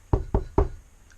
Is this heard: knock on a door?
yes